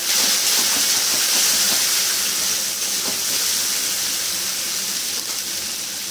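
Spices sizzle and sauté in hot oil for a vegetarian taro curry, a steady bright frying hiss with faint stirring scrapes, close and continuous without talk.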